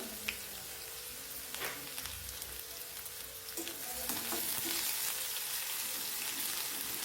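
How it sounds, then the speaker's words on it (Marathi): Finely chopped medium onion frying in oil for a brinjal and potato curry, a steady close crackling sizzle with a few sharper pops and stirring scrapes, growing slightly louder toward the end. "कांदा पण आपल्याला तेलावर छान परतून घ्यायचा आहे"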